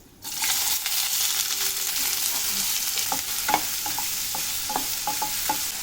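Two large, finely chopped onions fry in hot oil in a pan, giving a bright, constant sizzle close by. Scattered light clicks of a spatula stirring sound through it in the latter half.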